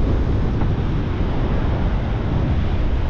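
Loud, constant roar of wind buffeting the microphone with heavy surf rumbling underneath on a shingle sea-angling beach with a big swell, no voices.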